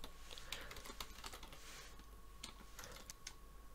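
Faint, quick clicks of typing on a computer keyboard, coming in irregular bursts with short pauses.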